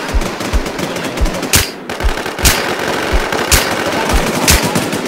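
Rapid automatic gunfire in the online zombie survival shooter Infestation, loud and close, with bursts of shots in a steady repeating rhythm and a few sharper, heavier blasts standing out among them.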